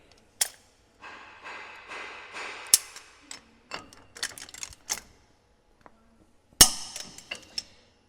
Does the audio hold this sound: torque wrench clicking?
yes